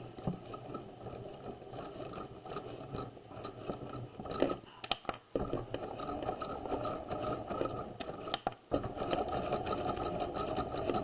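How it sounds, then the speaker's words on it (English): A sewing machine stitching around the neckline of a flat collar, a rapid continuous mechanical chatter with a couple of brief pauses as the fabric is turned, close and steady without talk. "we're going to back stitch and then sew around the neck"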